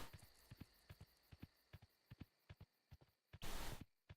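Horse hooves clip-clopping in the video game Kingdom, a steady walking rhythm of soft, distinct thuds at a relaxed pace, close and clear, with a brief burst of noise near the end.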